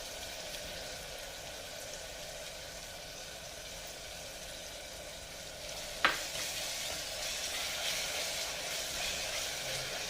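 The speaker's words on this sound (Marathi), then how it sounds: "आता हे वाटण चांगलं छान परतून घ्यायचं तेलामध्ये" Green masala paste with a little chopped tomato sizzles in hot oil, making a steady, loud frying hiss, with one clear clunk of stirring partway through and no voices.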